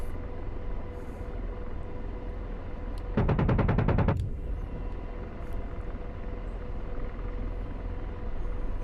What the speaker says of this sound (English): Much more accurate doing this way with the cannon.